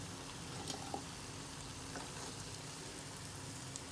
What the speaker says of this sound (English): So let's go ahead and quickly fry them all